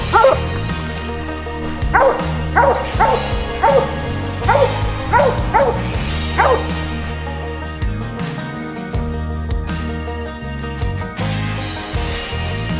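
A Plott hound bays at a treed raccoon in a run of loud, close, drawn-out bawls, rhythmic at first and then more scattered, with faint jingling.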